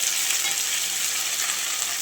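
Potatoes frying in a pan with ginger, garlic and green chilli, a steady close sizzle holding even and loud throughout with no talk.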